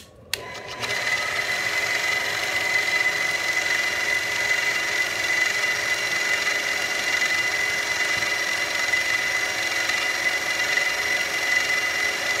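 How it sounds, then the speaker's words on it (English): Drill steadily boring into the pivot pin of a slipjoint pocketknife, a continuous high whine that starts after a brief click and runs unbroken and fairly loud throughout. "hopefully drill out right in the center of that pin"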